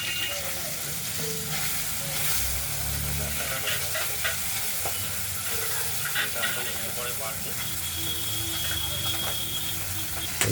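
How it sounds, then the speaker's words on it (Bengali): Spice paste for pabda fish curry being ground by hand, with a continuous rough, rasping, ratchet-like scraping at close range and a voice talking over it throughout. "মশলাটা আমরা প্রায় বেটে ফেলেছি, দেখতেই পাচ্ছেন"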